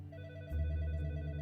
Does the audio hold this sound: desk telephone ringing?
yes